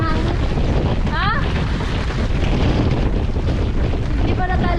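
Strong typhoon wind roars loudly and continuously against the microphone, buffeting without pause, with brief voices breaking through the gusts.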